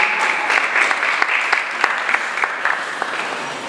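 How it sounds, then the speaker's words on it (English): Audience applause at a college graduation valedictory ceremony, a steady, moderately loud patter of many hands clapping with scattered sharper claps, continuous throughout with no talk over it. "A round of applause for him, please."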